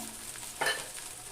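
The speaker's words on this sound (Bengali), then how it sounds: "তো পেঁয়াজ আদা রসুনটাকে একটু ভাজা ভাজা হলে এবার আমি অল্প পরিমাণ জল দিয়ে অন্য অন্য যে বাকি মশলাগুলো আছে মশলাটাকে একটু কষিয়ে নিব" Onion, ginger and garlic frying with spices in a pan, a brief soft sizzle with a short stirring scrape in the middle, faint and close.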